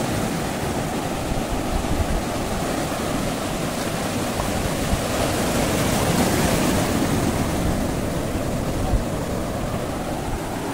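Sea waves roll and wash steadily at Digha beach near a river mouth, a constant broad roaring surf with no break and no voices.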